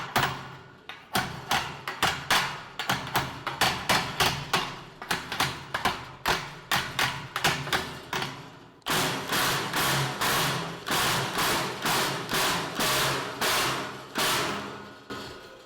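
An impact wrench hammers at a jammed nut on a farm, firing repeated sharp rattling bursts in a steady rhythm, close and loud, with brief gaps between pulls of the trigger.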